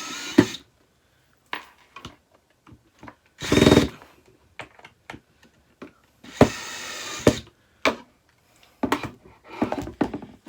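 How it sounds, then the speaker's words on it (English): A power screwdriver drives screws into a mid-century modern five-drawer dresser during assembly, sounding in short repeated bursts with one longer whir, separated by quiet handling noises, close and fairly loud. "So now that that's there, I'm going to tighten the screws."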